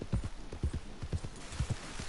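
Rhythmic hoofbeats of a galloping horse in the video game Red Dead Redemption 2, steady triple-beat thuds repeating quickly and close, with no voices.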